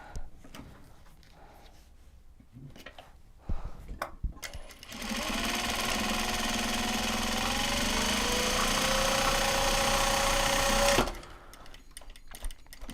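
A sewing machine stitches large fabric box bags, starting after a few seconds of handling clatter and then running in one continuous loud mechanical whir for about six seconds before stopping abruptly. A voice is heard briefly.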